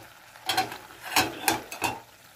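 Chopped elephant foot yam and potato with their water tipped into hot spiced oil for a Bengali vegetarian curry, giving several quick bursts of sizzling and stirring scrapes over about two seconds, close up with no talk.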